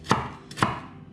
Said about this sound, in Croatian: mogu da se zezam sa ovim seckanjem